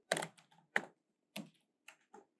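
Computer keyboard keys are tapped in short, uneven bursts while a ChatGPT prompt is typed, with a few spaced clicks and pauses between them, close and fairly quiet.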